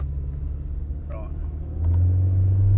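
A boosted BMW engine pulls harder as the car accelerates, giving a low droning rumble heard from inside that grows louder and steadier partway through, with a voice talking over it.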